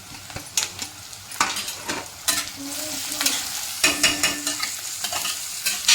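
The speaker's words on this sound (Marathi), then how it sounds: "कांदा पण आपल्याला चांगला तेलात परतून घ्यायचा आहे" Onion and tomato frying in oil in a pan while being stirred, with a steady sizzle under repeated scraping clinks of a spoon against the pan, close and fairly loud, no voices.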